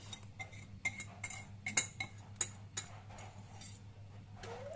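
Metal utensil clinking and scraping against a bowl while melted chocolate is stirred into a sugar and egg mixture for a molten-centre chocolate fondant, with irregular light taps over a low steady hum.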